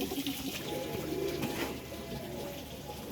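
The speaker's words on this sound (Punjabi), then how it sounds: "ਲੋ ਜੀ ਆ ਵੀ ਗਏ ਜੋ ਕਬੂਤਰ" Pigeons of various breeds kept for sale coo nearby in a soft, continuous rolling murmur, with faint background noise and no speech.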